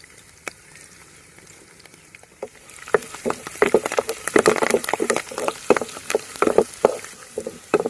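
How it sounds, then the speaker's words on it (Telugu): Curry leaves, cumin seeds and peeled garlic cloves frying in oil for a lemon pickle: a low hiss at first, then a busy crackling sizzle with many sharp pops and occasional stirring, close and steady. "లైట్గా గోల్డ్ కలర్ వచ్చేంత వరకు వేయించుకోవాలండి"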